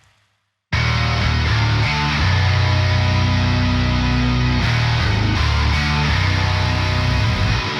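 Synth bass with a sizzling, bright high end joins a dense prog drum mix, starting abruptly after a brief silence and running loud and full throughout, no voices.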